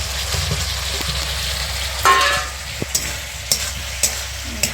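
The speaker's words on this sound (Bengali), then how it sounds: "এবার আলু ভাজাটি দিয়ে দেবো।" Fried potatoes tipped into sizzling masala in a pan for rui fish curry, a burst of louder frying as they go in, then a steady sizzle punctuated by several crisp spoon taps and scrapes.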